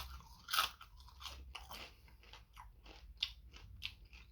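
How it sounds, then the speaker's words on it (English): Crisp crunching bites into a spicy potato fry dipped in sauce, a few sharp close crunches followed by softer chewing, fairly quiet with no talk. "we take our first dip of the potato into sauce"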